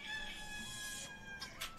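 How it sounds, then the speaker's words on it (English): Chickens clucking in the video game RAID Shadow Legends, a busy run of fowl calls and clucks with a crow-like cry, steady and fairly close with brief louder bursts near the end. "Oh my gosh, we got chickens!"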